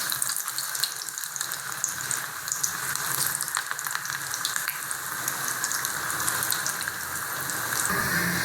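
Bread rolls frying in hot oil in a kadai, giving a continuous hissing bubbling sizzle at steady level with scattered crackles and no talking.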